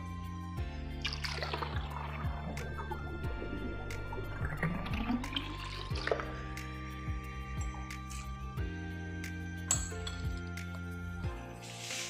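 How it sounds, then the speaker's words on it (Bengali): Cold water is poured into a container for apple lemon juice, making a trickling, gurgling pour with rising pitch, and glass and utensil clinks follow, all faint and close without speech. "এখন আমি দিয়ে দিচ্ছি ঠান্ডা পানি।"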